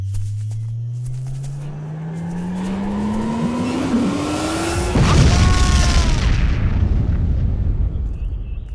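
A gunshot blast in a Malayalam comedy film scene: a rising whine swells for several seconds, then a single loud, heavy boom hits and decays into a long rumbling roar, with no voices.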